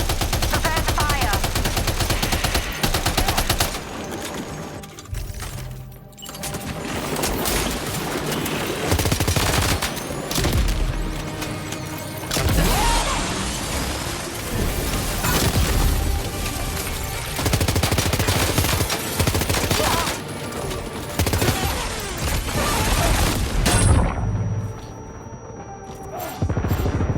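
Heavy gunfire in the Death Stranding 2 video game: dense, nearly continuous bursts and volleys of shots mixed with crashes and booms, loud and sustained over a long stretch, with voices audible at times.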